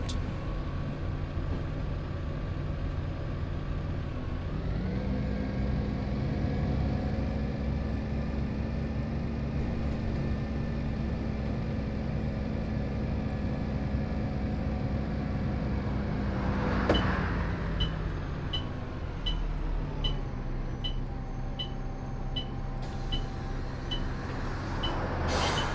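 A bus engine in a video game drones steadily for a long stretch, with its pitch rising and falling as it accelerates and slows. A hiss like an air brake sounds partway through, followed by rapid ticking.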